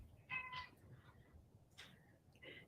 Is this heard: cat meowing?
yes